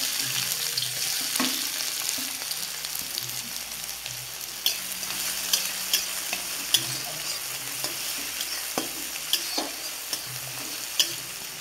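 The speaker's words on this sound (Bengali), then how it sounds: "এবার তেলটা দিয়ে দেবো গোটা জিরে, এবার দিয়ে দেবো পেঁয়াজ কুচি" Chopped onion and whole cumin seeds frying in hot oil, the masala for egg chops, make a close, steady sizzle punctuated by sharp, regular spatula taps and scrapes.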